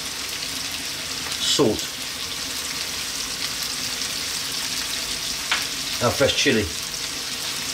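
Spices, salt and fresh chili frying for an Indian mutton curry give a steady low sizzle throughout, with louder stirring scrapes in brief bursts, and a voice speaks over it.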